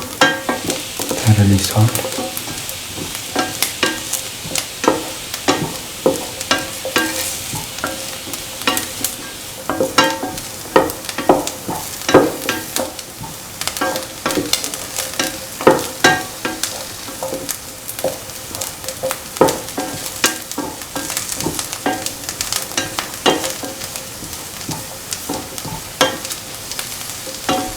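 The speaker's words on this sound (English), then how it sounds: "Keep on sauteing." Lemon chickpea rice sautéed and stirred in a pan, with a steady sizzle and repeated scraping, clattering stirs throughout, loud and close, with a brief spoken remark near the start.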